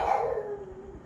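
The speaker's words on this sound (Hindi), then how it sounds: "इसलिए भौंक रहा है क्योंकि यहाँ पे लोग दिवाली वाले पटाखे छुड़ा रहे हैं" A dog gives a single drawn-out howl-like bark that tails off, frightened by Diwali firecrackers and bombs being set off nearby, heard fairly close and alone.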